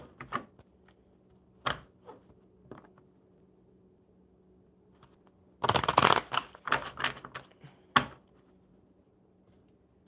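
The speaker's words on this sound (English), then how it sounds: "Lizzie, one good shuffle." A deck of cards gets a quick riffle shuffle at a live coffee-and-cards gathering: one dense, papery burst lasting about a second midway, with scattered lighter card flicks before and after in a quiet room.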